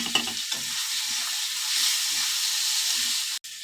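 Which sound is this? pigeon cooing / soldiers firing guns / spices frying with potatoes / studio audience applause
spices frying with potatoes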